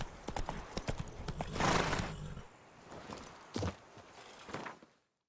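Geralt's horse Roach from The Witcher 3 walks with crisp, steady clip-clop hoofbeats, close and fairly loud, joined by a brief snorting whinny partway through before the sound cuts to silence.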